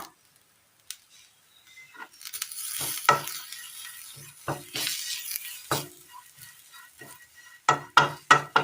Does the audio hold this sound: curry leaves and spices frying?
yes